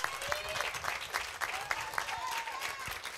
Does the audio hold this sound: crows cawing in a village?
no